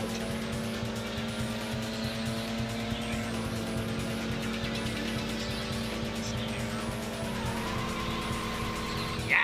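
A car in the video game Racing Lagoon slides through a handbrake turn, engine droning steadily with a long tire squeal rising and falling across the skid, game music or engine tones humming underneath and a sharp knock at the end.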